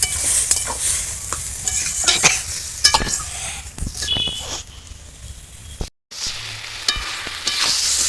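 Pumpkin stalks and vegetables cooked in fish oil and spices sizzle and crackle in a pan, with stirring scrapes and a splash as a little water goes in, steady frying throughout.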